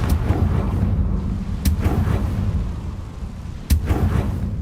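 Spell blasts from the Confringo fire spell in Hogwarts Legacy burst out over a rumbling game soundscape, with two or three sharp explosive cracks spread across the moment.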